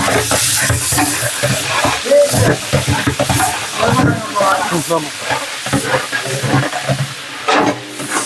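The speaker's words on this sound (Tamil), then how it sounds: "வெங்காயம் பொரிஞ்சாச்சு" Onions frying in oil for biryani, with a loud, uneven sizzle and bursts of stirring or scraping in the pot, close up and without clear speech.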